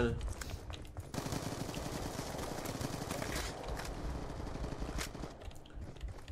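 Rapid automatic bursts from an MSMC submachine gun in Call of Duty: Black Ops 2, rattling almost continuously with brief pauses and a few isolated shots near the end.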